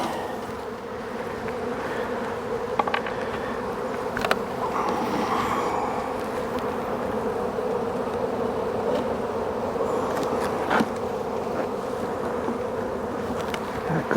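Steady, dense buzzing of many honey bees inside a hive, continuous and close, with a few faint clicks and bumps from handling.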